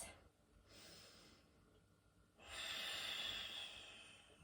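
Slow, deep breathing during morning yoga practice, two long airy exhales close to the mic, the second louder and sustained, with no talking.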